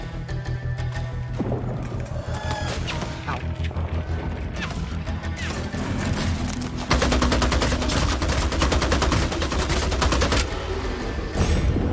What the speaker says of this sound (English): God, I love shotguns.